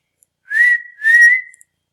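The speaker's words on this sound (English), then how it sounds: "the referees at the game blow the whistle" A whistle gives two short sliding blasts close to the listener, like a referee signalling at a ball game, each lasting about half a second with a brief gap between them.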